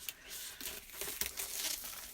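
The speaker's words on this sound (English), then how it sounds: "Take the cellophane off." Cellophane wrapper crinkles and crackles as it is pulled off a gift package, close and soft, with continuous irregular rustling and a few sharper snaps.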